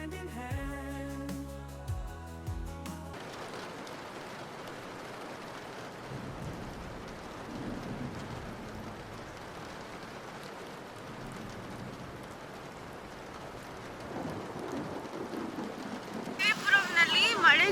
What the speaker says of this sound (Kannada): ಮಳೆ ಜಾಸ್ತಿ ಅಂತ ಹೇಳಿ ನನ್ನ ಕೈಲಿ ವಿಡಿಯೋ ಮಾಡೋಕ್ಕಾಗಲ್ಲ ಜಾಸ್ತಿ